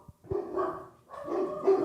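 Dogs bark in two loud, close bursts of sustained yapping, separated by a brief pause.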